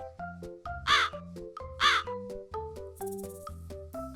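A crow caws twice, loud and close, over a musical backing with steady tones, followed by a brief chime.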